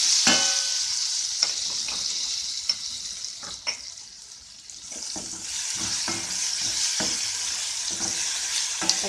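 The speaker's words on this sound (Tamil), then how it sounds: "தக்காளி நல்லா வதங்கட்டும்." Tomatoes sauté in a pan for a spicy restaurant-style mushroom fry, giving a continuous close sizzle with intermittent stirring scrapes and clicks throughout, no voices.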